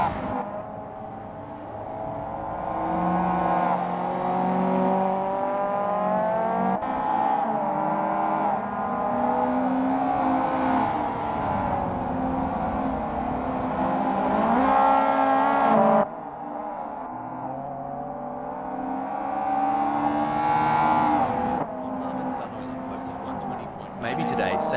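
A Mazda Eunos Roadster races in Assetto Corsa during a practice session, its engine revving steadily with rising and falling pitch and gear changes, loud and close, while a commentator talks over it.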